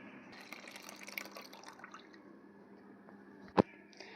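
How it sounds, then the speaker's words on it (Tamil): Milk is poured into a cooking pot for palm fruit payasam, giving a soft, faint liquid trickle with a single sharp clink near the end. "இப்போ பால் ஊற்றிக்கலாம்."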